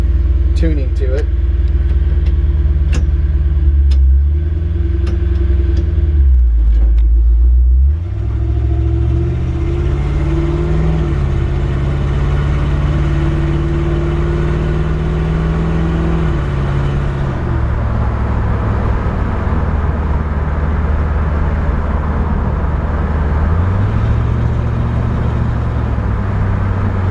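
A 1964 Ford F100 Styleside pickup drives along, its engine droning steadily near and loud, with the pitch climbing and then dropping at several gear shifts.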